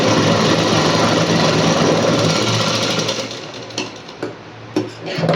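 A sewing machine stitches a folded hook strip for a blouse, running as a loud, continuous rapid buzz for about three seconds and then slowing into short separate bursts and clicks.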